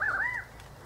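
A single chough in a feeding flock gives one short, ringing downward-bending call, fairly close and clear, followed by quiet outdoor background.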